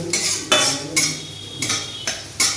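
A spoon scrapes in regular strokes around a pan where chopped garlic and dried red chillies are lightly fried in oil. Five or six distinct stirring sweeps sound close up over a faint background.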